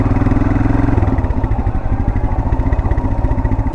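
A geared motorcycle eases away in first gear on a little throttle with the clutch half out, its engine thumping in a steady loud pulse close by, then settling into a rhythmic chug as it rolls.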